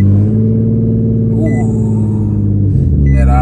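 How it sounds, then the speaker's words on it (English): A Nissan 370Z engine rumbles at idle after starting, a loud, deep, steady drone up close with faint higher tones above it. "I can turn on the car real quick for a little bit."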